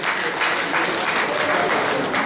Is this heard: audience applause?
yes